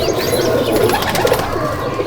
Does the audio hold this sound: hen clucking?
no